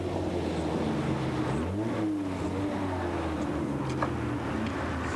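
Rally car at the Rally Tunisia 1997 stage flying finish beside the Salt Lakes, a steady engine drone with a shifting pitch sweep midway, heard at moderate distance over constant wind-like noise.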